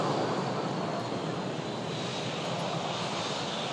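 Boeing 757 on a test flight at Manchester Airport, a loud, broad, steady jet engine roar filling the whole moment without pause, close and unbroken by voices.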